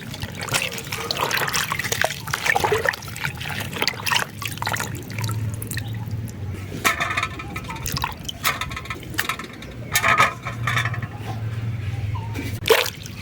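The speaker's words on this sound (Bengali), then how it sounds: "তো কপি পাতাগুলো আমাদের কাটা হয়ে গেছে, এবার এটা ভালো করে ধুয়ে নেব।" Cut cabbage leaves are washed under running water in a village kitchen, with continuous trickling and splashing, intermittent drips and clattering handling of the leaves close by.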